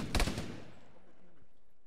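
Gunfire in Arma 3 with a Halo mod: a short, loud burst of shots at the start, then a decaying tail fading into quiet ambience.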